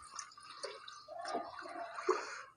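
Water is poured into a cooking pot of meat and onions for aloo gosht, a soft, brief splashing and trickling fill, faint and close, with no talking.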